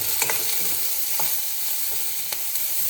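Green chillies fry in hot oil, a close, steady sizzle broken by a few sharp stirring clinks and scrapes of a utensil against the pan.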